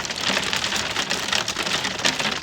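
Hail falls in a London hailstorm, making a dense, steady patter of ice striking hard surfaces. The hiss is continuous and fairly loud, with no voices.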